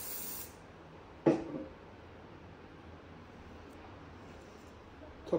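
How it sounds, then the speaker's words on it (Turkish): Hairspray is sprayed onto styled hair in a short, sharp hissing burst, close and fairly loud against a quiet background, with a faint hiss just before it. "En son tekrardan bir spreyimizi sıkıyoruz."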